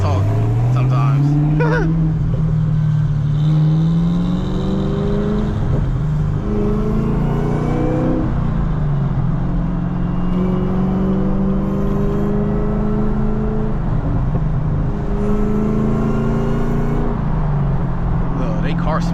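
A Camaro ZL1 with a 6-speed manual drives through a small town, its deep engine rumble rising and falling through gear changes, loud and close from inside the cabin, with someone talking over it.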